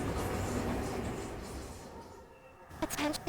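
A train idles at a station platform in Opus Prism Peak with a steady low rumble that fades, then a few brief clanks and clicks near the end.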